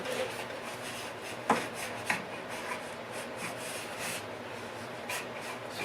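A wooden piece is cut on a bandsaw fitted with a circle jig: a steady rasping, whirring cut close by, with a couple of sharp knocks as the wood shifts on the jig pin.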